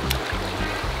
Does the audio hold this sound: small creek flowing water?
yes